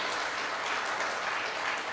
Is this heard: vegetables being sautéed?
no